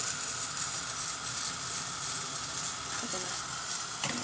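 Chocolate strawberry spring rolls frying in oil, a steady crackling sizzle with a couple of sharper pops near the end, no talking.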